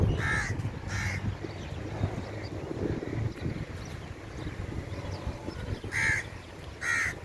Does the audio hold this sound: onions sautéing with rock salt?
no